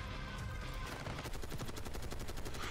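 Rapid automatic gunfire from a weapon in the Black Ops 6 beta, a dense stream of sharp, evenly spaced shots that quickens into a steady burst over a constant background din of game sound.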